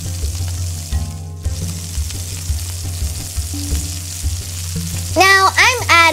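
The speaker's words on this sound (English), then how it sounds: "Now I'm adding 1 cup of cranberry, washed and pat dried. Stir and cook for 3 minutes." Washed, patted-dry cranberries are stirred and cooked in a hot pan for an Indian-style pickle, giving a loud, steady sizzle with scraping stirs and a few rising pops near the end.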